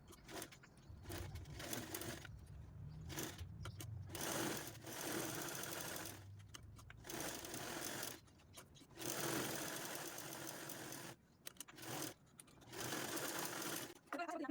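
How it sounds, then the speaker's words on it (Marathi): A sewing machine stitches a small fabric mini pouch in a series of whirring runs broken by short pauses, close and fairly loud, with a voice talking faintly at times. "चला आता या इथपर्यंत आपण स्टिच करू एवढा पार्ट ओपन ठेवू"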